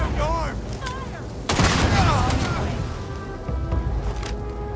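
Gunfire in the sci-fi role-playing game Starfield: a loud crack and boom mid-clip amid chirpy electronic effects and scattered further shots, with a voice shouting in the game.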